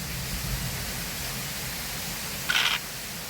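Heavy monsoon rain falling, a steady broadband hiss at moderate level, with a brief brighter burst of some other sound near the end.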